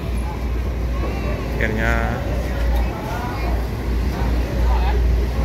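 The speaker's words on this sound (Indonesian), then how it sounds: "masih halus ini mesinnya" A bus engine idles smoothly with a steady low rumble throughout, heard inside or beside the vehicle while someone talks over it.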